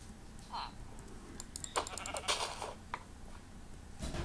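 A sheep bleats in the Minecraft video game, one short bleat early on, followed by clicks and keyboard-like tapping, with quiet room noise throughout.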